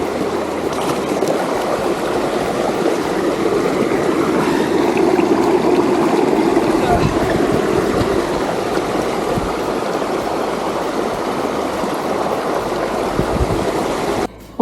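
Mountain stream water rushing over a ford on a mountain bike trail between Caoria and Miesnotta, a loud, steady close-up wash of flowing water with no voices and a short drop at the very end.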